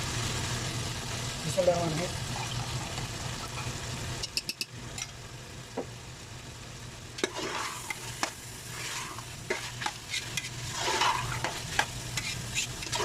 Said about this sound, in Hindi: ये तकरीबन फुल जो है ये फ्राई हो जाएगा चिकन